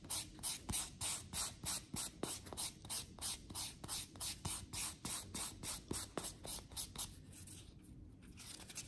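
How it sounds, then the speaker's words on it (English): A white nail buffer is rubbed across fingernails in quick, regular back-and-forth strokes, each a soft, close, scratchy swish repeating about three times a second before slowing near the end. "Polishing with this white side will provide a high gloss finish for your nails. Just go across the nail."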